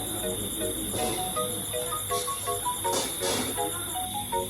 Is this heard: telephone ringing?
no